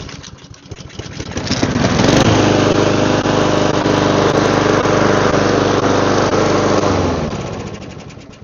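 A repaired, smoking rough lawn mower engine starts up and runs loudly at a steady high-pitched drone for several seconds, then winds down, close by with no talking.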